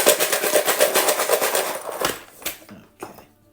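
A box of charms is shaken hard and close up, giving a rapid rattling clatter that runs for a couple of seconds, then breaks into a few separate shakes and stops.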